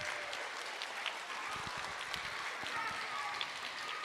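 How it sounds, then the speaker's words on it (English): Audience applause fills a school end-of-year awards ceremony at an elementary school, a steady wash of many hands clapping with scattered individual claps standing out, continuous and fairly loud throughout. "Keep your applause going."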